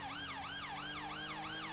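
A police car siren wailing continuously in a smooth rising and falling cycle, loud and close, with a low engine hum beneath it.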